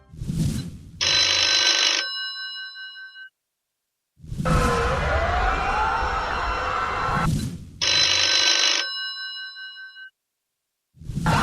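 An old-style telephone bell rings in two loud, bright bursts separated by short pauses, with ambient room sound in between; no one speaks.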